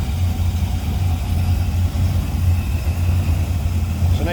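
A 1936 Chevrolet Master Coupe engine idles steadily with a low, even rumble, close and continuous throughout with no speech over it.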